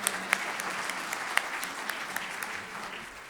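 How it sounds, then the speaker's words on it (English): A lecture-hall audience applauds after a keynote, steady dense clapping at moderate volume with a few sharper individual claps standing out, fading slightly toward the end. "One big round of applause for Thank Ankur."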